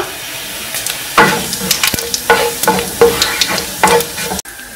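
Dry red chillies and cumin seeds fry in hot oil, a loud close sizzle broken by repeated stirring scrapes and sputters, with no talk.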